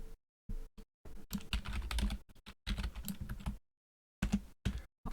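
Bursts of close computer keyboard typing, rapid clattering keystrokes in several runs separated by short pauses, with no talking.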